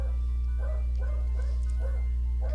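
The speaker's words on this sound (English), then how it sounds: "He came home in a strange vehicle, which is the only time she barks at him." A pet dog barking at an unfamiliar vehicle arriving home, a series of muffled, moderately distant barks in an uneven rhythm over a steady low hum.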